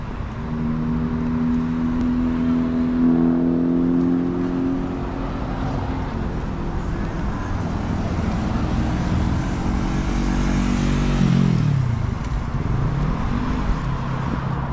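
Motorbikes rev on a downtown Barrie city street, one popping a wheelie; steady engine drone with rising and falling pitch swells near the end, amid continuous traffic noise and no talking.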